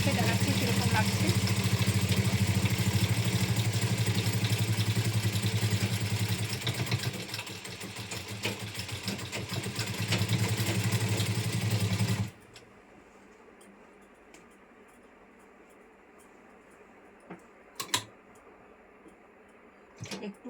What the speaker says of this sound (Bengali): আর একটু সেলাই করতে বাকি, একটু সেলাই করে নিই